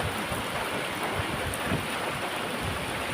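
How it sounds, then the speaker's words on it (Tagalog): Heavy rain pours down without letup during a flood in Valenzuela City, a dense, loud, even roar of falling water across the whole stretch with no voices. "Grabe yung ulan, magdamag. Walang hinto yung ulan guys"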